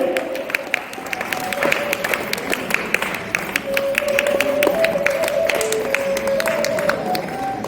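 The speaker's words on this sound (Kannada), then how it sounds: "ಎಲ್ಲರ ಚಪ್ಪಾಳಿಯೊಂದಿಗೆ ಒಂದು ಅಭಿನಂದನೆಯನ್ನ ಸಲ್ಲಿಸೋದು" An audience at a first literary conference in Sirsi claps steadily, a dense sustained patter of hands at moderate distance, with faint voices and tones in the background.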